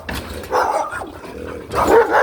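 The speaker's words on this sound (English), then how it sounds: "Spuds MacKenzie looking dog. And it's an odd breed mix." A white terrier-mix dog barks and yips at close range, two loud bursts separated by a softer whimpering stretch.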